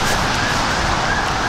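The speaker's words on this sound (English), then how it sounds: "Kind of like this siren is kind of annoying." A loud, harsh siren blares steadily for the whole short stretch, close and unbroken, with no voices over it.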